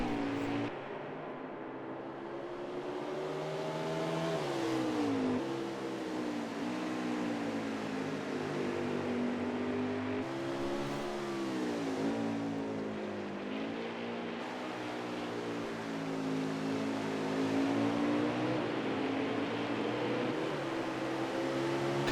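The No. 00 Xfinity Series race car laps the Mid-Ohio road course, its engine droning steadily at a distance with rising and falling pitch as it shifts and works through corners, continuous for over twenty seconds.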